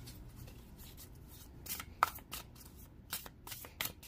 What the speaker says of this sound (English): Now I am shuffling this brand new deck I just got today.